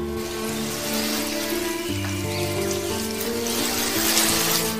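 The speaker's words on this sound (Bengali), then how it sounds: "তুই আমার বাগানে জল দিয়ে আয়" Water splashes and trickles steadily onto a garden in an animated Bengali fairy tale, a bright, continuous pouring wash under a soft tonal music bed.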